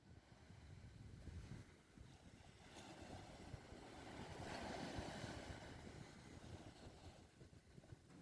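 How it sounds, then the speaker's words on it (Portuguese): Sea waves break on a beach, a continuous soft rushing wash of surf with wind noise, swelling in the middle and fading slightly toward the end. "uma onda do mar, né? Quebrando na beirada da praia,"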